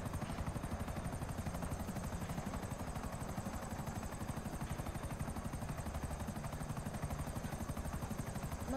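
A helicopter flies in the video game GTA 5, its rotor chopping in a fast even rhythm over a steady engine whine, constant and fairly loud throughout with no voices.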